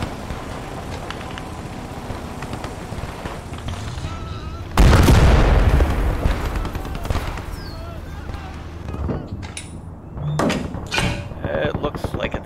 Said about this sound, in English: Put another shell in it just in case.